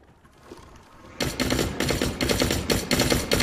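Rapid bursts of automatic gunfire in The Cycle Frontier, a firefight kicking in after a quiet second and then hammering on in loud repeated volleys.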